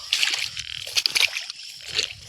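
Feet wade through deep water on a morning mushroom-foraging walk, making uneven sloshing splashes in close, irregular bursts, with no talking over them.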